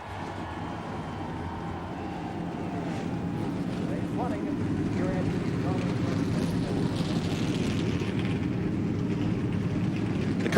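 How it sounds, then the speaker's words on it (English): NASCAR Busch Series race car engines at Darlington Raceway start up and keep running, a broad low rumble that builds and grows slightly louder, with a voice speaking over it. "Gentlemen, start your engines."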